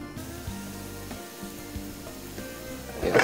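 Diced onions and garlic sizzle in olive oil in a pan, a soft, close frying hiss with faint stirring and clatter, ending in a louder burst of sizzle.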